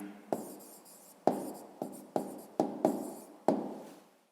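A pen writes an answer on paper in a series of short, distinct strokes, each starting with a tap and trailing off, close and quiet.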